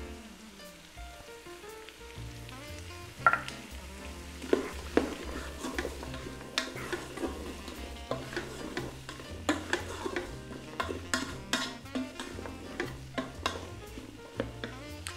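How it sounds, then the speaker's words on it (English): Rice, butter and spices get stirred in a pot for turkey and rice soup, giving soft scraping and clinking spoon strokes in an irregular rhythm over a faint background sizzle. "Now mix this up with the butter. And we're gonna add in those spices."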